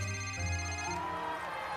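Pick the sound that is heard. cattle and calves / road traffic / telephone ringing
telephone ringing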